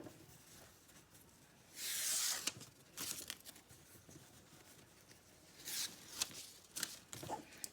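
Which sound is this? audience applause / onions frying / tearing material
tearing material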